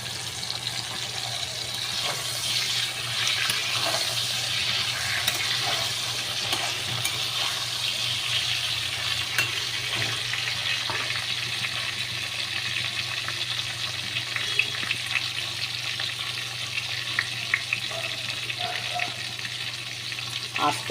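Eggplant pieces fry steadily in hot oil in a pan for a katla fish curry, a continuous close sizzle with occasional crackles and light utensil clinks.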